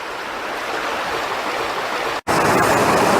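A Dartmoor river rushes over the stepping stones just upstream of where two rivers meet, a steady broadband wash of flowing water with a momentary break before it resumes slightly brighter.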